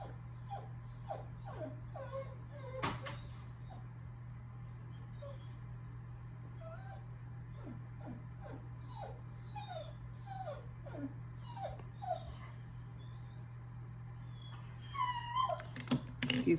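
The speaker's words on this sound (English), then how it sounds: "Excuse my dog back there whining." A female dog whines in the background indoors, a long run of thin, rising and falling whimpers and yips coming in repeated bursts, fairly quiet over a steady low hum, with a few louder rustles near the end.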